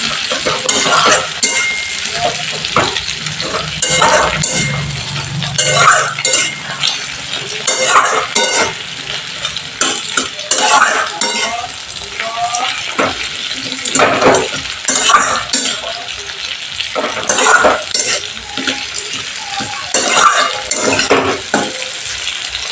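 Chopped tomatoes frying in hot oil in a pan for a home-cooked cauliflower curry, a steady close sizzle broken by repeated stirring scrapes and light clinks of a utensil against the pan, with no talking.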